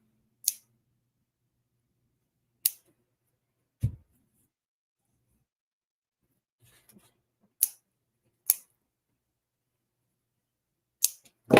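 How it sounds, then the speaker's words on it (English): Scissors trim macrame cord loops, giving about seven sharp, isolated snips spaced irregularly in a quiet room, close and fairly faint. "little trim here, cut my loops"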